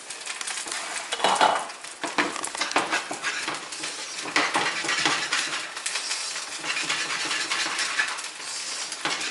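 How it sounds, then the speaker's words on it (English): Shrimp and grits being stirred in a hot pan, with repeated spoon scrapes and clinks against the cookware at close range, and no talking. "You want to stir frequently so that on the bottom it doesn't burn."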